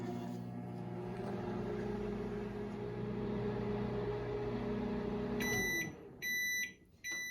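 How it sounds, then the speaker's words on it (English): A microwave oven heats mochi with a steady low hum and whirr for several seconds, then stops with a series of loud, high electronic beeps. "Close the microwave and put it in for 10 to 12 minutes."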